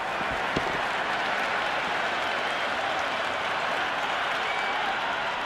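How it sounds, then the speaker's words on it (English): A stadium crowd in the video game Cricket 26 applauding and cheering after a big shot in an IPL match, a steady dense wash of clapping and crowd noise lasting the whole stretch, loud and sustained. "The crowd is electric right now."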